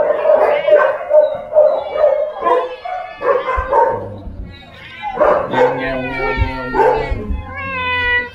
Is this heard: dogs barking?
yes